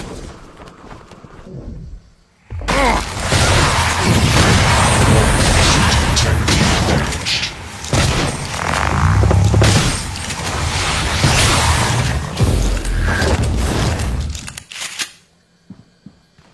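In a video game, shotgun blasts merge into a loud, dense barrage of booming bursts lasting about twelve seconds, then cut off to near quiet.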